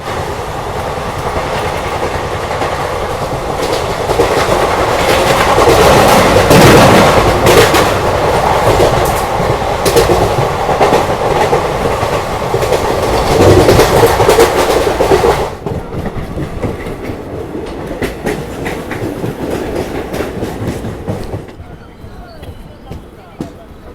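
Howrah-Raxaul Mithila Express passenger train running along the track, a steady loud rumble with rhythmic wheel clatter, heard from on board; the noise drops noticeably partway through and continues more quietly with voices faintly present.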